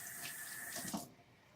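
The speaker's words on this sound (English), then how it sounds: "So I'm just going to run some water on it" Tap water running briefly over a hookah part being rinsed clean by hand, a soft close hiss and splash that cuts off after about a second.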